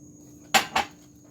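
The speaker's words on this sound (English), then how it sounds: "And now it goes my walnuts in here" A spoon knocking twice against a bowl while walnuts are stirred into chiffon cake batter in a home kitchen, two quick close clinks in an otherwise quiet moment.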